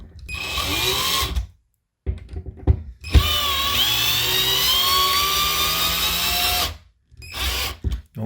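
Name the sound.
handheld power drill driving screws into toilet paper holder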